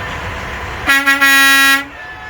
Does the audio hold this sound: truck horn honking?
yes